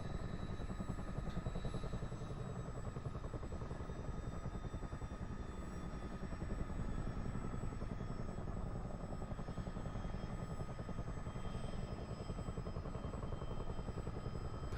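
A Chinook helicopter in the MSFS 2024 simulator holds a continuous deep rotor thrum and engine whine while coming in to land, unbroken and even in level, with no speech.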